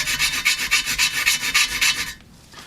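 Corroded brake surfaces on a Nissan Leaf being scrubbed clean, a rapid series of about a dozen rhythmic rasping strokes, close and distinct, stopping abruptly.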